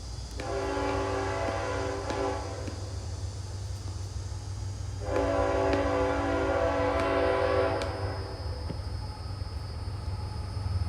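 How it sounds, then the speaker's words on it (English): A train rolls past outdoors with a steady low rumble, and two long loud horn blasts sound a few seconds apart. No one speaks. "I'm gonna let this train pass down."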